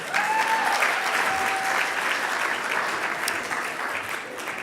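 Sustained applause from an audience of mayors at a winter meeting plenary session, honoring Senator Booker, dense and steady throughout with a faint voice or tone briefly above it early on.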